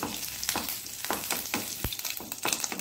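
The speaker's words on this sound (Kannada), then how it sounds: "ಸ್ವಲ್ಪ ಹೀಗೆ ಬೆಳ್ಳುಳ್ಳಿ ಇದರಲ್ಲಿ ಕಾಯಬೇಕು." Garlic sizzles and crackles in hot oil in a pan for a banana stem chutney, a steady close fry broken by several sharp stirring scrapes and clicks, with no talking.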